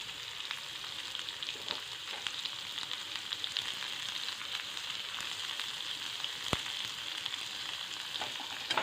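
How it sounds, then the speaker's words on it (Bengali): Black cumin seeds and chopped onion frying in a pan, a steady close sizzle running throughout with occasional crackles and pops, no voices. "প্রথমেই কিন্তু আমি কালো জিরা আর হচ্ছে পেঁয়াজ কুচি কিন্তু দিয়ে দিলাম"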